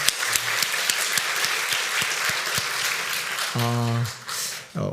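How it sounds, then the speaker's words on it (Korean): A church congregation claps together, giving glory to God during a Sunday service, in a dense, steady round of applause that runs throughout, with a brief tonal sound near the end. "하나님께 영광의 박수를 드리겠습니다."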